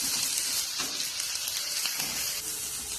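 Onions fry in a pan for soya masala, giving off a dense, continuous sizzle with a close, crackling hiss and small pops throughout, without any voices.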